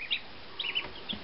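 Newly hatched chicks a few days old give high, thin peeps in a few short bursts, close and fairly quiet, with no talking.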